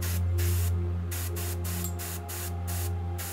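An airbrush sprays yellow rust paint in steady hissing bursts during model figure painting, several spurts separated by short pauses over a constant low electrical hum, close and fairly loud.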